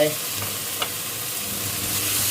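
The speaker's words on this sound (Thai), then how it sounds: "ตัดเครื่องหอมใส่กุ้งครับพี่น้อง นี่ใส่กุ้งลงไป" Shrimp hitting a hot pan with aromatics for stink bean and shrimp-paste stir-fry, giving a steady close sizzle with brief stirring clatter throughout.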